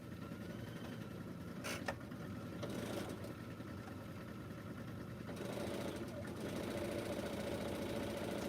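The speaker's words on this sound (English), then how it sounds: "I'm not wasting my time watching the machine sew" A sewing machine runs steadily at low volume, laying long stitches in a quilting session, its fast mechanical chatter continuous throughout with a couple of brief clicks and handling noises, no speech.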